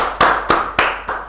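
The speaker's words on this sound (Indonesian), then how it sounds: "tepuk tangan dulu nih buat Mr." Four loud, close hand claps in a steady rhythm, crisp and isolated with a short ring after each, offered for a guest poet on a talk show.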